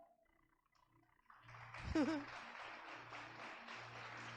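A church congregation breaks into faint, steady applause that starts a little way in and holds through to the end, soft and distant, after a quiet stretch with a low voice.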